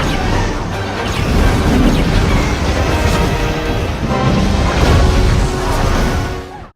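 Ion torpedoes fired by Rebel Gold Squadron Y-wings during the Battle of Endor against the second Death Star, a sustained roar of blasts, whooshes and crashing explosions, loud and dense throughout, fading out at the end.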